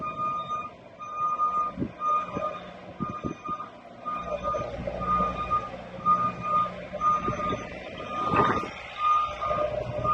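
Reversing beeps from a man lift outside a log home repeat steadily at moderate distance, a regular electronic tone over a low engine rumble with a few clunks.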